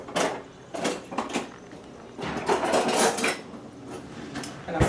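A clean metal spoon clinks and scrapes against dishes and a bowl while scalloped potato roll ingredients are mixed, giving repeated close, bright clatters in uneven bursts with no talking.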